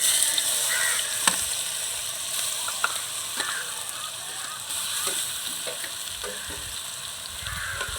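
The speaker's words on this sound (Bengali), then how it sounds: "তো এবার এই যে ম্যারিনেট করা ঢেঁড়সগুলো আমি দিয়ে দেব।" Marinated okra hits hot mustard oil in a wok and fries with a steady crackling sizzle, punctuated by sharp stirring clinks of a utensil, close up and without talk.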